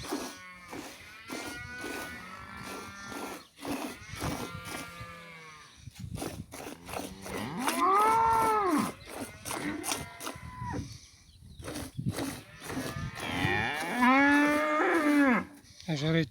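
A dairy cow lows repeatedly in a village farmyard during hand milking, long drawn-out moos rising and falling, with pauses between calls and quieter background noises.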